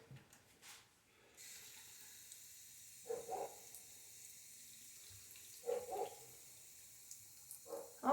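Water splashing from a tap onto skin to test makeup for water resistance, quiet running water with a few brief louder splashes and drips, a dog barking faintly in the background.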